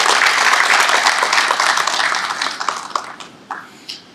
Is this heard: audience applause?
yes